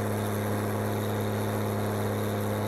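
Tractor engine pulling a heavy trailer in Farming Simulator 19, a steady droning hum with constant tonal pitch, alone and unchanging.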